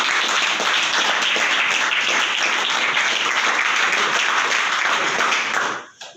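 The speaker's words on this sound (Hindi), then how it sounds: "एक बेहतरीन हाथ ताली।" An audience claps in sustained, dense applause close by, holding steady for several seconds before cutting off abruptly.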